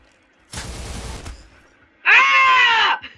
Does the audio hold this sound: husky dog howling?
no